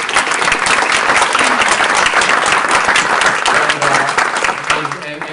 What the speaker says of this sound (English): I want to have a big round of applause for all of us